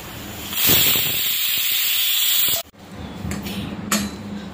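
A pressure cooker whistling as it releases steam, a loud sustained hissing blast lasting about two seconds that cuts off abruptly, followed by quieter hiss and faint clinks.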